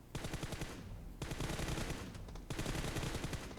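Rapid automatic gunfire hits an enemy in PUBG Mobile, with three dense bursts of shots rattling in quick succession, loud and close, with no talk over them.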